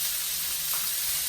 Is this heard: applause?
no